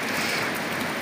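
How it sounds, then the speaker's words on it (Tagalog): Light, steady rain falls as a typhoon approaches, a soft continuous broadband hiss with no distinct drops standing out, even and unbroken throughout. "Medyo panayang ulan lang yan."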